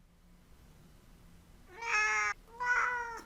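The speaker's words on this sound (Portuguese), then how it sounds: "Mas, opa, gatinha." A cat meows twice nearby, two clear drawn-out calls with a short gap between them, over a quiet background.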